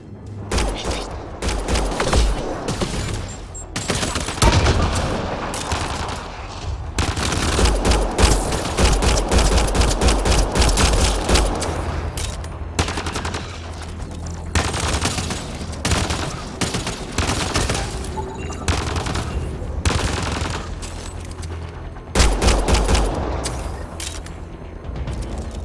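Sustained firefight in the Mass Effect Andromeda video game, with rapid bursts of gunfire, overlapping shots and occasional booms rattling on nearly nonstop, loud and close for the whole stretch.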